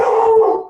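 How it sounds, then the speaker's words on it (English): A pet dog lets out a single short, loud howling bark close by indoors, a clear tonal yelp that trails off within a second. "that's our dog."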